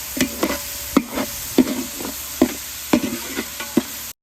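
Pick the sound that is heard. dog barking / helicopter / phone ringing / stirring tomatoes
stirring tomatoes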